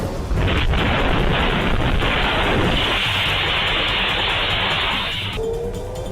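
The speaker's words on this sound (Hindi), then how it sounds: "आप देखिए कैसे ईरान की ये मिसाइल इजराइल के रक्षा मंत्रालय पर टूट पड़ी है।" An Iranian missile striking Israel's defense ministry: a sustained roaring, rumbling blast of broadband noise lasting about five seconds, loud and steady before cutting off, with a faint rising whine after.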